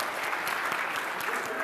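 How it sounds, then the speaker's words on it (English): Conference audience at a Solid Edge University 2014 session applauding, a steady wash of clapping filling the whole short stretch at moderate level with no clear break. "Yes, we will applaud now."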